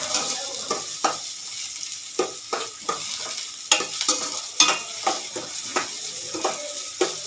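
Onions fry in a pan for egg gravy, a bright continuous sizzle broken by regular scraping strokes of a spatula against the metal.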